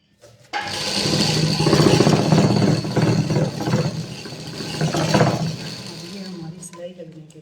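A sewing machine runs a continuous line of stitching along the edge of a salwar cuff stiffened with buckram. The machine hums steadily at close range for about five seconds, then winds down.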